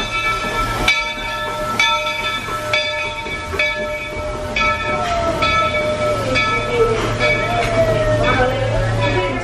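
A Disney theme park train at Magic Kingdom sounds in a busy outdoor station, with steady rumbling, tonal whistle-like harmonics and repeated clanking accents over crowd noise.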